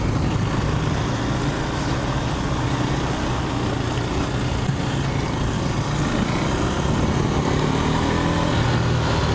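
A 2017 KTM 390 Duke motorcycle engine drones steadily while riding, with constant wind rush and a broad, even roar throughout and no voices.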